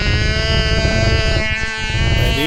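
An OS-15 glow engine on a Hustler free-flight model plane screams at a steady high pitch with a strong buzzing whine, loud and close, then drops off sharply near the end.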